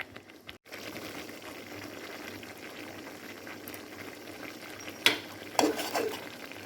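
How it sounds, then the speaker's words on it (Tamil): Thick halwa bubbling in a pan with ghee, a steady low boiling murmur with a couple of sharper pops and a stir scrape near the end. "எப்படி கொட கொடன்னு வந்துட்டு பாருங்கள்."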